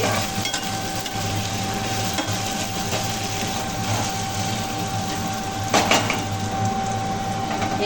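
Crushed ginger frying and being stirred in a pan while making chicken tarka, with a steady close sizzle, repeated scraping strokes of a spatula and a louder scrape near the end.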